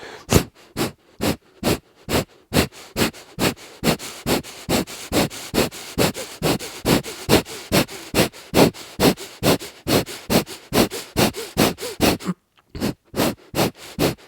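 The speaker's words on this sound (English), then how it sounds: "We'll begin now with breath of fire." Breath of fire yoga breathing through the nose, rapid sharp rhythmic exhalations in a steady fast pulse, close and loud, with a brief pause near the end before resuming.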